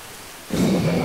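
Rain and thunder during a martial arts drama scene: after a half-second lull, a loud broadband rumble of downpour and thunder swells up and sustains, close and heavy with no voices.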